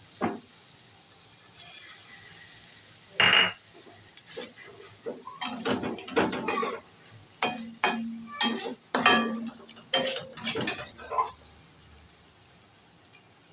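Dried shidol fish frying in a pan: a low sizzle runs underneath a long series of sharp clinks and scrapes of a utensil against the pan, with one loud clatter early on and a busy stretch of knocks after it.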